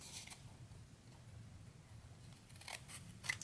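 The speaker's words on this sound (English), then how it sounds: "I'm just going to go ahead and snip this off right around the corner here" Quick scissor snips cut the corner of a paper scrap, a couple of faint, crisp clicks standing out near the start and end over soft background rustle.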